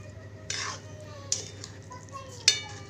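A spoon scraping and stirring khoa and sugar syrup in a metal pan for homemade peda, three distinct scrapes over a low steady background hum.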